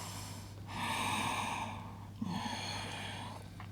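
During a yoga flow, two long deep breaths are drawn in and let out nearby with audible airy rushes, a faint steady hum underneath and a small click at the end.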